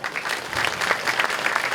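Guests applaud council members at a groundbreaking ceremony for a food robotics and food tech research support center: brief, moderately loud crowd clapping with scattered sharper claps, no talk heard.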